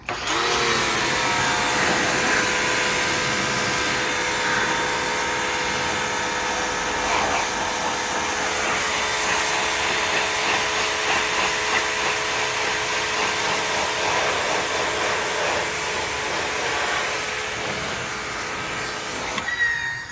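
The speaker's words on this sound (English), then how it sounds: "Cover your ears, this thing's pretty freaking loud, this pressure washer." Loud, constant high-pressure spray roar from a motorized pressure washer cleaning a Honda Type R, steady throughout with a mechanical whine and no voices.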